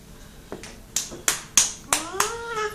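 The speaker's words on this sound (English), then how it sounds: "Show her how you clap." A small child's hands clap several times during feeding, giving sharp separate slaps about a third of a second apart, close by, with a faint voice-like tone rising toward the end.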